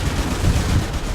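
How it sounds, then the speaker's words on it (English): Goblins launch fireworks in the video game Dungeon Siege III, a quick burst of crackling, popping blasts layered with rumbling low booms, fairly loud and dense with no talking. "goblins with fireworks."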